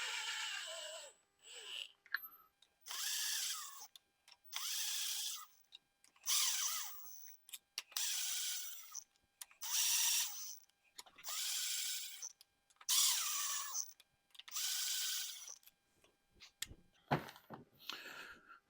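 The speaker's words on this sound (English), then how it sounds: "we're just going to use the impact just to wind them down on" An impact wrench runs the nuts down on a 6.0 Powerstroke cylinder head in about eight separate whirring bursts, each roughly a second long with short pauses between them, close and clear, ending with a few metallic clicks.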